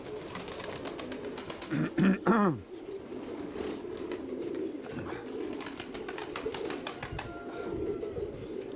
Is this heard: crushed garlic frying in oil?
no